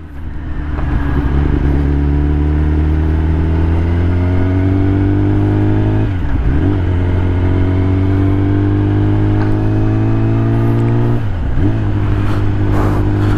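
A motorcycle engine drones loud and close at high speed, a steady high-revving roar with two brief gear-shift dips as it keeps accelerating.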